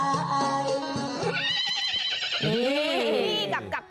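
Horses at the Nakhon Sawan horse-carrying festival give a loud, close whinny that rises and falls amid a busy crowd, with a second neigh sweeping up near the end.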